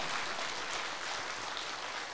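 Church congregation applauding, a dense, even wash of many hands clapping at once, steady and fairly loud with no pauses for its whole length.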